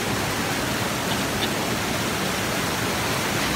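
The strong current of Ditumabo Mother Falls in San Luis, Aurora roars as a dense, unbroken wash of rushing water, loud and close throughout.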